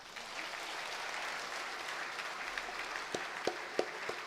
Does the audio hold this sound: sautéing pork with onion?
no